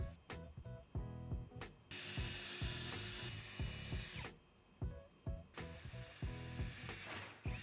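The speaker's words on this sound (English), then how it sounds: "I transferred and drilled those same holes in the stainless steel" A power drill bores holes through stainless steel sheet for a range hood cover, whining in long high-pitched runs between clicks and ratcheting taps, close and alone.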